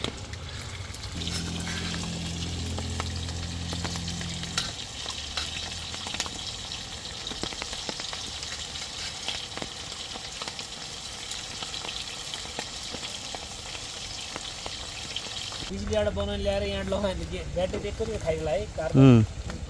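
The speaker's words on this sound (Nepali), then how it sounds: "अब हामी रोस्ट बनाउँदैछौँ पानी परे पनि" A roast fries in a pan outdoors at a rainy campsite, a steady broad hiss of sizzling and rain running throughout, with a voice heard briefly near the end.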